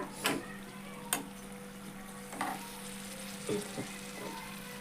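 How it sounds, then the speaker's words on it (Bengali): Agasta (bakful) flowers fry quietly in a pan, giving a soft, steady sizzle punctuated by a few sharp knocks and clinks from stirring utensils. "এই যে বকফুল ভাজা"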